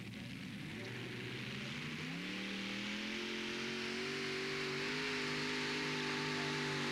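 Multi-engine pulling tractors rev hard at a 1997 tractor pulling event in Herning, a loud, sustained roar with engine pitch climbing steadily over several seconds amid broad crowd and arena noise.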